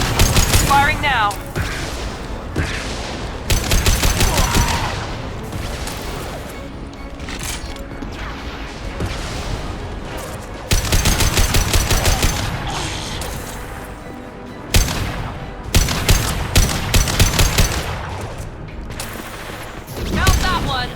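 Gunfire in the video game Mass Effect 2 Legendary Edition: rapid loud bursts of automatic shots and impacts come in repeated volleys, mixed with crashes and game effects, with voices talking over parts of it.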